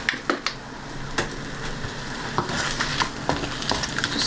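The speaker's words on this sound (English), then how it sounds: "Just stir this one in here." Raisins being stirred into a frying vegan dish in a pan, with a steady sizzle underneath and scattered scraping clicks of the spoon against the pan.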